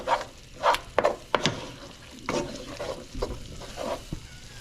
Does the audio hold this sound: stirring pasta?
yes